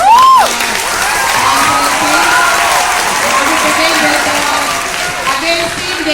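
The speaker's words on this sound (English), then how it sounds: "Big round of applause." A crowd at a school debate applauds loudly and steadily, with cheering and children's voices mixed in, close and sustained for several seconds after a short spoken call.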